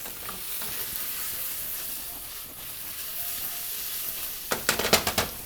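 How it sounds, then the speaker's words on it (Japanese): Chopped vegetables for an Italian soffritto stir-fry slowly over reduced medium heat, giving a soft, steady sizzle and hiss, with a short burst of louder crackling spatters near the end and no talking. "火力を少し下げて じっくりと炒めていくというフェーズです"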